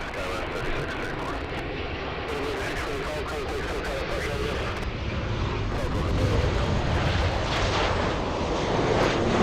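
A Boeing 747 takes off from runway 24 Left at LAX with a broad, continuous jet roar that swells gradually, while a voice talks over the engine noise.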